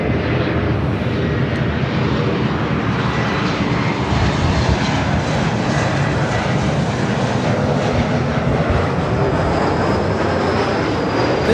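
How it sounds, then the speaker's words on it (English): A Delta Connection Embraer E175 from Spokane arrives at Los Angeles LAX, its loud continuous jet roar filling the whole stretch with no one talking. "This is Delta Connection 3910 coming in from Spokane on the E175"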